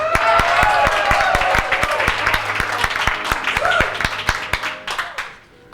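A crowd at an entertainment event claps and cheers for a performing group, with dense applause carrying sharp individual claps close by. A voice talks over the clapping before it fades out near the end.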